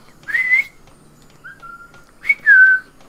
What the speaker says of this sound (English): Whistle at him real quick.